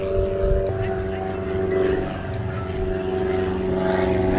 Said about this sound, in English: This is what it's like living near an airport. There's just constant noise. Every 2 minutes, another airplane.